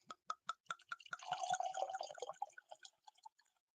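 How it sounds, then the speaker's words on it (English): Old Granddad whiskey glugs from the bottle into a glass in a heavy pour: a few sharp drips, then a steady gurgling stream for about a second, breaking into scattered drops at the end, close and fairly quiet. "Do a little bit of heavy pour."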